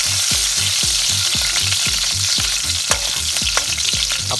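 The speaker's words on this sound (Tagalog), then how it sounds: "Painitin muna natin ng konti mantika bago natin ilagay yung bawang." Garlic sizzles steadily in hot cooking oil for a Filipino chicken sinampalukan dish, a dense continuous crackle with a spatula stirring and scraping the pan in a regular rhythm about twice a second.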